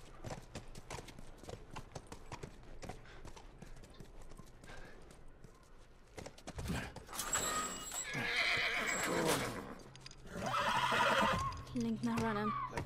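Hooves clip-clop steadily while a horse whinnies loudly a few times in the second half, amid other game sounds and some talking, in the video game The Last of Us Remastered.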